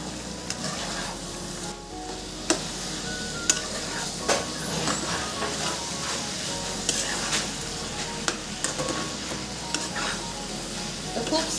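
Chicken pieces for a Maharashtrian dry chicken dish sizzle in oil while being stirred, with a constant close frying hiss broken by frequent spoon scrapes and clicks against the pan.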